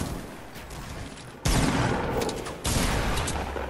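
Fortnite gunfire arrives in a rapid fusillade, with a loud close burst of shots and explosive blasts kicking in midway and a second burst following, over a busy game background.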